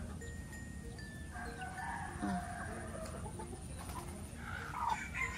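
A rooster crows and hens cluck faintly in the distance over a low steady rumble of outdoor background noise.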